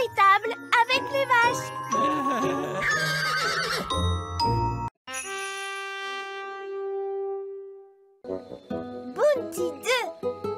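A pink unicorn in an animated children's cartoon neighs and whinnies amid bright jingling chimes, musical flourishes and a voice, ending on a high, wavering whinny.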